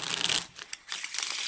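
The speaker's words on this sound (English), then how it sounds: "I'm going to take a few moments to shuffle the cards." Playing cards are shuffled at close range, a rapid papery riffle and flutter that continues with a brief pause midway before resuming.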